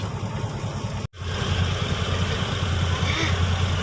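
A car engine catches after a brief cutout and settles into a steady, close, rumbling idle with a rhythmic low knock throughout.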